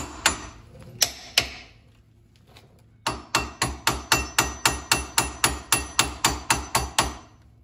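A hammer taps a bushing into a Club Car DS golf cart part, first with three separate strikes and then with a steady run of about fifteen evenly spaced metallic taps, close and sharp.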